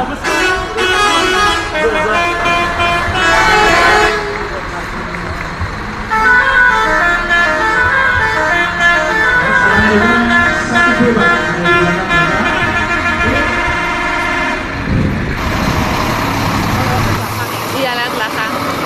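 Dozens of Scania buses on a free homecoming trip sound their telolet horns, loud melodic tooting phrases repeating over engine rumble, with people talking and cheering around them.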